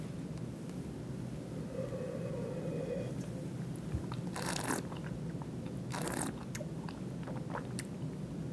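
A taste of Taz 2008 Santa Barbara Pinot Noir, with two short, airy slurping sips heard close up over a steady low room hum, and no talking.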